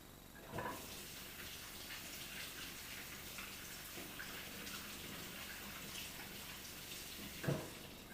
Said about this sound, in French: Ensuite, je les rince un peu.